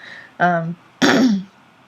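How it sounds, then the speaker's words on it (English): Two close throat clears in quick succession, the second rougher and louder, with quiet between. "I'm going to try not to clear my throat too much"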